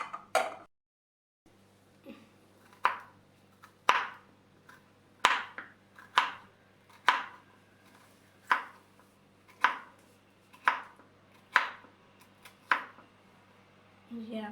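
A knife chops bitter gourd on a board in about a dozen crisp, evenly spaced cuts, close and clear, with a steady low hum beneath.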